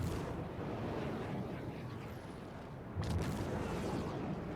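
Weapon fire strikes a ship in the space game Star Citizen, heard as dull booming impacts over a constant low rumble, with a sharper burst of hits near the end.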